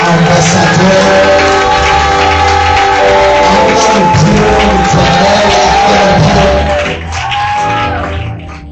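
Church congregation at a Sunday service cheering and acclaiming together, a loud sustained wash of crowd shouts and whoops with music tones running underneath, easing off toward the end.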